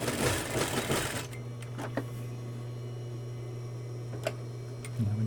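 A sewing machine stitching a fabric cuff, running with a loud fast whir for about a second, then idling with a steady hum and scattered ticks before starting up again briefly.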